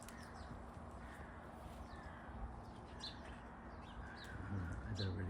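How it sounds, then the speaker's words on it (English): Starlings calling in a garden, scattered chirps and whistles at a moderate distance over a faint steady hum, with a louder low rustle toward the end. "Look at these birdies, can you hear them? Starlings absolutely love the mealworms."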